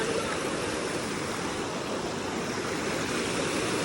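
Strong river current rushing past, a dense, unbroken roar of flowing water, loud and close throughout.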